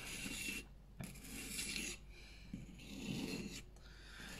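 Knife blade pushed along a finer grit sharpening stone in repeated forward strokes, each a close, rasping scrape about a second long separated by short pauses, fairly quiet and without talk.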